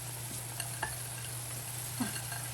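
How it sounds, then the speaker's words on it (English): Peas tumbling into a pan of caramelizing white and red onions with minced garlic, a steady soft sizzle with a few light stirring clicks and a small splash, close and alone. "And now I'm just gonna put the peas"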